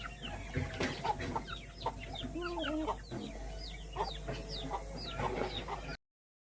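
Chickens cluck and chirp repeatedly in a farmyard, with chicks moving about, several overlapping calls at close range over steady outdoor background noise.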